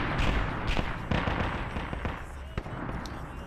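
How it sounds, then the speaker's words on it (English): Airstrike explosions on a Warhammer 40K map in Arma Zeus, a rumbling barrage of sharp booms and crackling blasts at a distance, layered over continuous battle noise. "We can see where that airstrike went."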